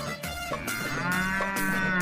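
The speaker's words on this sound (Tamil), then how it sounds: "அங்க பாரு, மாடு வந்து." A cow moos loudly and close in a long, drawn-out low call that rises and holds, with no voices over it.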